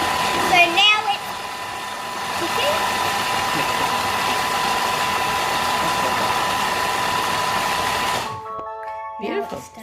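A kitchen appliance whirring steadily with its lid on as it mixes ingredients including salt, a loud continuous motor drone lasting about eight seconds and then cutting off, with a voice speaking faintly at the start and end.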